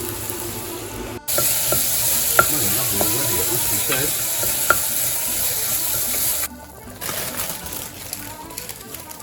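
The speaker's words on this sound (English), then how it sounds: "It's all frying a little bit." Steady sizzling of potatoes and onion frying in a pan for soup, with a few light clinks, while someone speaks briefly over it; the sizzle softens near the end.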